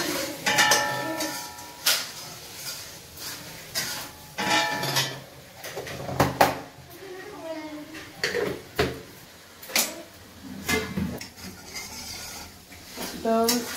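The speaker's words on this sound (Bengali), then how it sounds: "এবার আমি সুন্দর করে কষিয়ে নেব।" Spiced potatoes with salt and turmeric being stirred and sautéed in a pan, a spoon scraping and clinking against the metal in repeated bursts at close range, with a voice talking in places.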